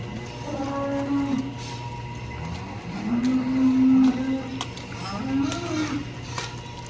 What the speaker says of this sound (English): Nice young heifer right there, actually walking away from us.